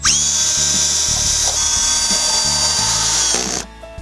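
A power drill drives fasteners into a QE TruLegacy V-groove soffit, its loud, steady motor whine running nearly continuously with ratcheting clutch clicks, close up, then stopping abruptly near the end.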